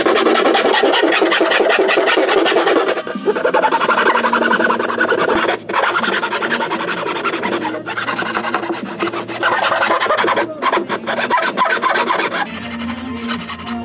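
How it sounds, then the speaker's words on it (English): Small detail files rasp on the window openings of a studio-scale model taxi cab, a continuous close scratching with quick strokes and a few brief breaks between passes. "And now we're finishing these windows with small detail files."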